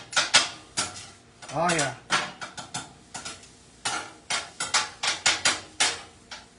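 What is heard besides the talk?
mixing food ingredients in a pan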